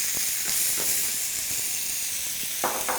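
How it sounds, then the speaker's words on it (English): Artichokes land in olive oil in a pan and crackle into a steady, close hiss with faint pops and ticks throughout, alone without speech. "A little bit of olive oil in our pan, and then we're going to add our artichokes"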